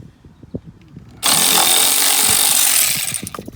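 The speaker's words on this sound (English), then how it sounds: "Now I'm taking off the housing that clamps it." While the fuel filter housing is being removed from a Volvo XC90, a loud power tool whirs for about two seconds between quieter mechanical clicks.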